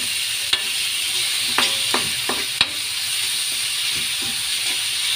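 Chicken pieces being stirred into softened onion in a hot pan, sizzling steadily while a utensil scrapes and clacks against the pan in a few sharp, close knocks.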